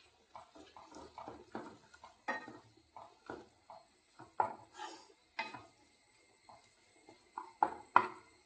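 Salted egg mixture being stirred in a pan, heard as a run of light, irregular clinks and scrapes of a utensil against the pan, quiet and close, with no voices.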